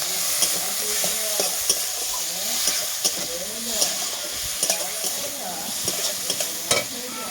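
Tomatoes stirred into frying mustard masala for a puti fish gravy, a continuous close sizzle with regular scraping spatula knocks against the pan, steady and loud throughout.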